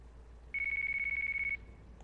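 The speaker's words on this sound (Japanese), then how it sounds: "電話来た。" A phone in the Yakuza 5 video game gives one sustained electronic ring tone, a steady trilling buzz lasting about a second, clear and alone in a quiet room.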